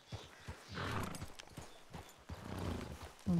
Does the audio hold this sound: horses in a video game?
yes